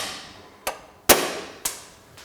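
Sharp metallic hammer strikes ring out as old bellhousing dowels are driven loose: three distinct hits at uneven intervals, the middle one loudest, each with a short decaying ring, no voices.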